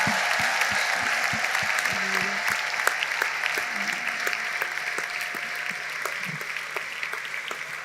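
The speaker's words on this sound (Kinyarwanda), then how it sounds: "Tumukomere amashyi wumva kwiriye. Let's give him a big round of praise." A church congregation applauding, dense continuous clapping from many hands with sharp individual claps standing out, steady throughout, while a voice or music hums faintly underneath.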